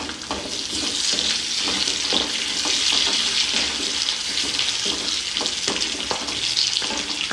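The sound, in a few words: curry leaves sizzling in hot oil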